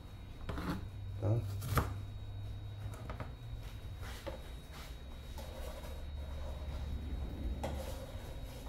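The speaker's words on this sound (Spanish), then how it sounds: "Partimos la cebollita." A knife chops onion on a board, giving a few quiet, irregular taps against a low background hum, with some faint voice between them.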